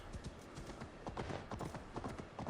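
Horse hooves clip-clop steadily in Assassin's Creed Valhalla, a brisk, even gallop rhythm close by with no talk over it.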